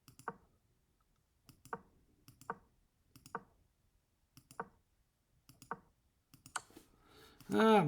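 Computer mouse clicking through the moves of a drawn chess endgame, a steady series of about ten soft, close single clicks spaced roughly half a second to a second apart, ending in a short burst of other noise.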